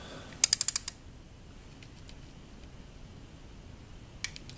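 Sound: torque wrench clicking while tightening bolts on Ducati Diavel

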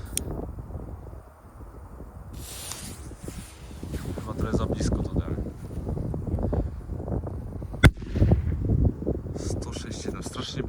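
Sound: Magnum flash firecracker exploding

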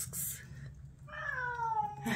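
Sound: cat meowing

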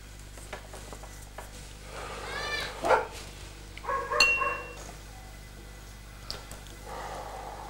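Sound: dogs barking

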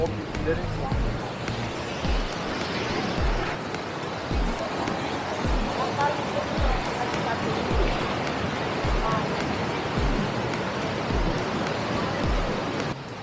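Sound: Manavgat waterfall, Antalya

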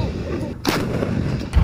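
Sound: PLA new 155mm wheeled howitzer firing live ammunition

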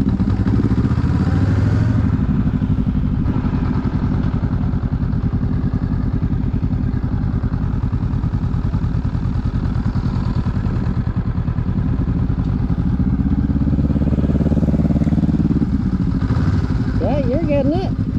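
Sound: motorcycle pulling away with a little throttle

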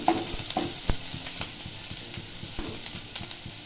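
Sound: onions frying in oil in a pan

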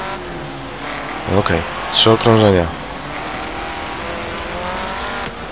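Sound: buggy race cars in video game Forza Horizon 3

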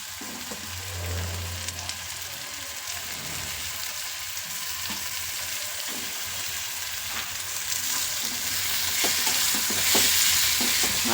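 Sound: paneer cubes frying in a pan

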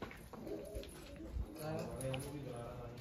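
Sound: pigeons being let out of their loft

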